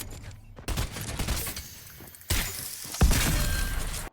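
Gunfire in a shooter video game comes in several loud volleys of rapid shots with short quieter gaps between them. The bursts sound close and harsh, with a crash-like crack at the start of some volleys.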